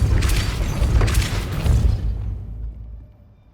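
A Depulso spell is cast in Hogwarts Legacy: a loud, booming magical burst with a broad whooshing impact, followed by a rumbling tail that fades out over a couple of seconds.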